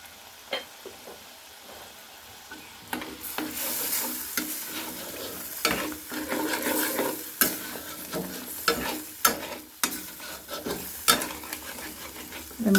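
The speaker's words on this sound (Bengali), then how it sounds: "কষানো প্রায় শেষ, আমি সামান্য তেল দিয়ে দিই" Spice paste for a prawn dish fries in a pan with a little oil and is stirred, a steady soft sizzle broken by repeated scraping spatula strokes against the pan, close up with no talking.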